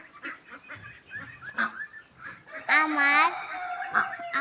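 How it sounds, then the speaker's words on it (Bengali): Poultry clucks and squawks nearby amid farmyard noise, with one loud, drawn-out honking call standing out near the middle. "এই দেখেন আমার পোলট্রি মুরগি, আমি এটা 3 মাস ধরে পালতেছি।"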